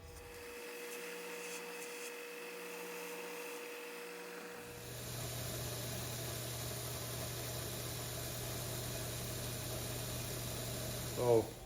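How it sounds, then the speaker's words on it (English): A sander runs as small sharp corners are rounded off a cam gear part for a six-cycle engine. It starts partway through as a steady, moderately loud motor drone over quieter background hum. "round these little sharp corners off of here in the sander"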